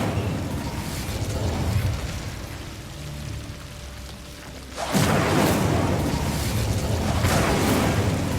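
Incendio fire spell cast in the Hogwarts Legacy video game, a sudden loud whooshing burst of flame after a quieter rumbling stretch, continuing as a broad crackling roar.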